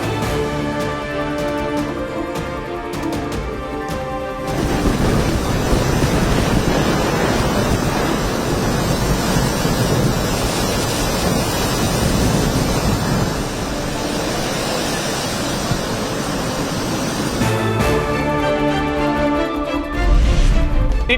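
Rough sea waves pounding the coast during Cyclone Ditwah in Tamil Nadu, a loud continuous roar of surf with heavy wind buffeting the microphone, the breaking swell surging louder in the middle.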